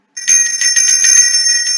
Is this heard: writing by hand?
no